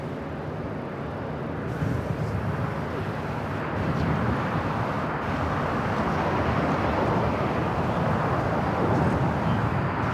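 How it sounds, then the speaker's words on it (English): Japan Airlines Boeing 777-300ER jet at LAX, departing for Tokyo Haneda, gives a broad, steady roar that builds slightly and holds loud and continuous, with wind buffeting the microphone. "Japan Airlines. This 777 to 300 ER. This flight heading back to Tokyo Haneda."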